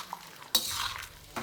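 A broccoli and chicken stir fry with chili flakes gets a single quick stir in a pan: one sharp scrape of the utensil over a soft, low sizzle, no talking.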